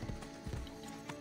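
Quiet hoofbeats of a horse in Assassin's Creed Brotherhood, a few soft, uneven clip-clop thuds at low volume within game ambience.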